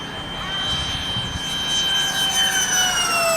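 Model jet aircraft engine at a radio-control flying event, whining steadily with rising and falling high-pitched tones at mid distance as it prepares for takeoff, over a constant outdoor roar.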